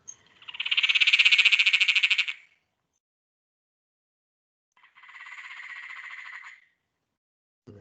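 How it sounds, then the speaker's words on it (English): Maniacal cackling frog giving its crazy laugh-like call: a loud, rapid rattling cackle lasting about two seconds, then after a pause a second, softer, shorter burst of the same pulsed call. "The maniacal cackling frog, crazy laugh."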